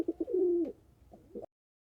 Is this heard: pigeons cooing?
yes